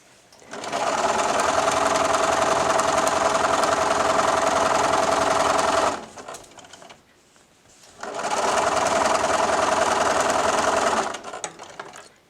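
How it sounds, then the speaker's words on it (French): A sewing machine stitches bias binding onto a patchwork quilt in two steady, fast whirring runs, the first about five seconds and the second about three, separated by a quiet pause, close and loud. "Je plante mon aiguille. Je vise le coin. Je couds en biais."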